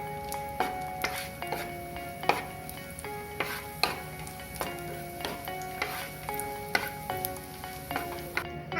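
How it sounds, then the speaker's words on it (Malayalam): Steady sizzle of cashews, nuts and raisins frying in ghee, broken by regular scraping stirs from a spoon against the pan, close and moderately loud. "ഇനി നമുക്ക് കുറച്ച് നെയ്യിലേക്ക് ഒരൽപ്പം കിസ്മിസും അതേപോലെ തന്നെ നട്ട്സും കൂടെ ഒന്ന് വറുത്തെടുക്കാം"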